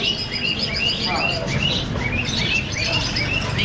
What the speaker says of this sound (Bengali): পাখির কিচিরমিচির ডাক।